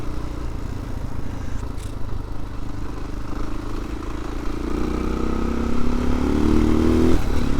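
A 578 cc single-cylinder four-stroke motorcycle engine weighing 114 kilos and making 60 horsepower idles and runs with a steady thumping rumble, its pitch rising as it revs up toward the end, close and loud without talk.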